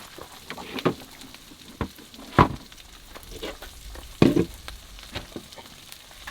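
Frozen pre-made potatoes with green peppers and onions fry in a pan over a campfire, giving a steady soft sizzle broken by a few sharp scrapes and knocks of a spoon or spatula.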